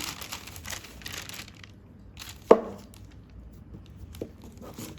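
A knife cuts through cashew fudge into squares, with one sharp thud against the board at the center and a fainter tap near the end, plus soft rustling around them.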